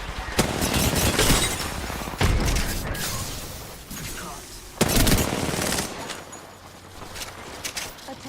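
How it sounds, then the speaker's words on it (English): A video game firefight: loud bursts of rapid gunfire and heavy booms hit in several sharp surges, one large blast near the middle, then fade to quieter mechanical sounds and distant shots. "Grenade."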